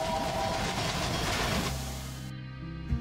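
Train running on a UK map in Railway Empire 2, a continuous rumbling rail roll with low mechanical tones, fairly loud, easing off near the end with a brief bump, no voices.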